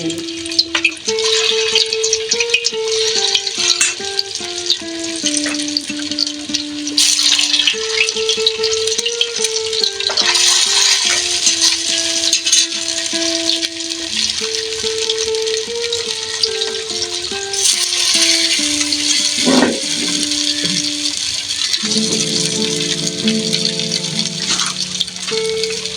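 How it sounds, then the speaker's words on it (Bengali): Jackfruit pieces fry in hot oil in a wok in a village kitchen, a steady sizzling hiss running throughout beneath louder melodic music. "আমি কড়াইয়ের মধ্যে এই যে এটা কেটে করে রেখেছি, সেটা এখন আমি এই তেলের মধ্যে ভেজে নিব"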